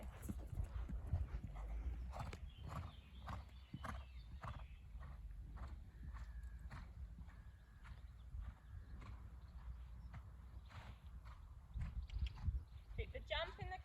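Hooves thud in a steady, quick rhythm as a horse canters around a showjumping arena during a coached lesson, moderately close, with a voice speaking now and then over the hoofbeats.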